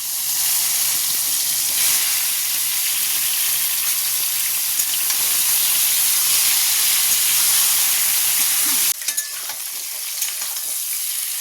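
Mango pieces tossed into a kadai of fried dry red chillies and panch phoron for sweet-sour mango pickle sizzle loudly and continuously with stirring scrapes, before the sound cuts down near the end.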